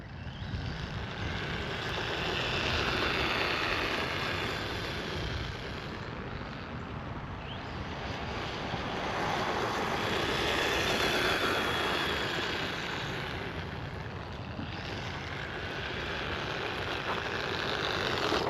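Kyosho Sand Master 2.0 budget RC buggy with a 2S brushed motor, driving with a steady, slightly rough motor whine and wheel noise that holds fairly loud for the whole stretch, swelling and easing as it runs.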